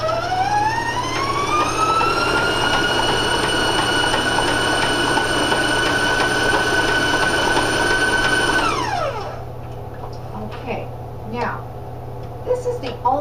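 An electric stand mixer runs at high speed through chocolate shortbread cookie dough, a loud rising whine that holds steady, then drops away near the end and leaves quieter mechanical clatter.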